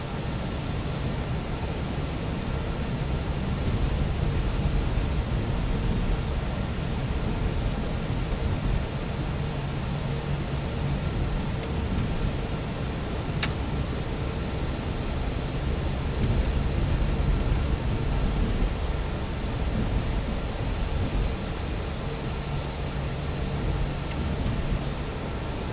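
An Airbus A320 taxiing at Melbourne in the Prepar3D flight simulator, a continuous steady jet engine roar and broadband hiss from start to end, with one faint click midway and no speech.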